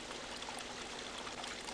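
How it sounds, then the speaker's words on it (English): Steady rushing water of a waterfall in the video game Resident Evil Remake, a continuous broadband wash that stays even and fairly faint throughout with no voices. "the waterfall is opened!"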